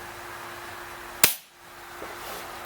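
A Webley Tempest .22 caliber pellet pistol fires a single 11.9 grain RWS pellet. The shot is one sharp, close crack followed by a brief tail and quiet.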